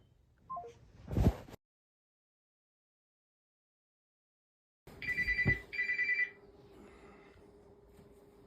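Telephone keypad dialing tones while placing a call: a short burst of tones, a gap of silence, then repeated dual-tone bursts with a steady tone underneath, fairly clear with no talk.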